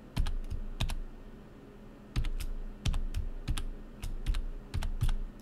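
A BIOS password typed on a computer keyboard: irregular bursts of crisp key clicks, close and clear, separated by short pauses, with no speech.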